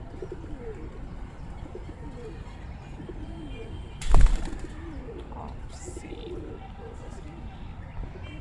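Soft, low pigeon coos murmur on and off under a steady background hiss, broken once by a brief loud thump near the middle.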